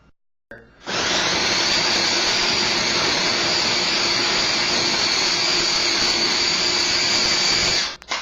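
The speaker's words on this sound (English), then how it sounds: "throw them in the food processor, and then grind them up a little bit" A food processor grinds chopped vegetables for raw vegan sushi rice, starting up and holding a loud, close, steady motor roar for most of the clip before cutting off near the end.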